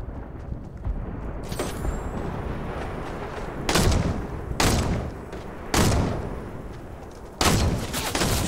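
Rifle gunfire in the battle royale game Fortnite: several loud, spaced shots or blasts about a second apart over a dense, roaring background of game noise, with no talking.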